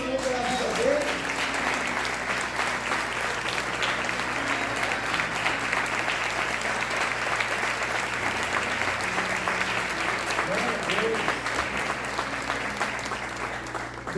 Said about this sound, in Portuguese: Pode aplaudir o Senhor pela vida dele.